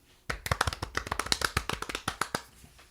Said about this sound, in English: Golf clap for Marcia.